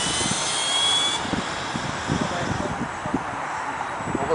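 A mini T-28 model plane drones steadily as it flies slowly through high wind, its thin engine whine blending with gusty wind rumble and a few low thumps, with people talking faintly nearby.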